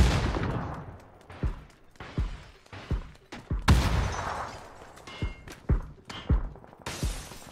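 Gunfire in the battle royale game PUBG sounds as a rapid string of sharp, punchy shots and thuds in irregular bursts, some louder and closer, with brief gaps between volleys.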